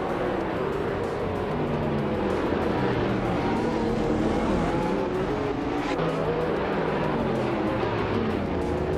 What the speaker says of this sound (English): The race is underway at Golden Port and Deplorably Apple is starting on pole in a 2019 McLaren Speedtail